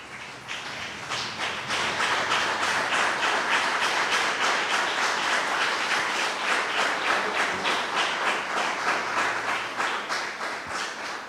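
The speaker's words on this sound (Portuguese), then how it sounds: "aplauda bem forte a Jesus" A church congregation claps hard and steadily in praise, a dense, even roar of many hands sustained throughout at close range.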